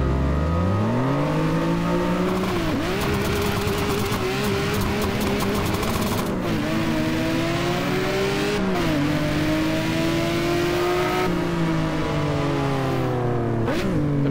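A turbocharged Z280 engine in the Assetto Corsa racing game, revving hard and loud from start to finish, pitch climbing through each gear, dipping sharply at several shifts, with a short burst of tire squeal.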